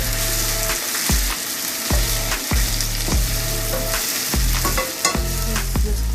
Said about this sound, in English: Give it a nice mix and let the onions cook until it turns golden brown.